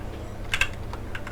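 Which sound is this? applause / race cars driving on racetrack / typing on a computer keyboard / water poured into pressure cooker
typing on a computer keyboard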